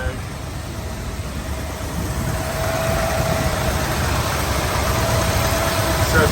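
A 1978 Ford F250 truck engine idling steadily with a low, even rumble and a faint whine, growing slightly louder partway through, with voices talking faintly nearby.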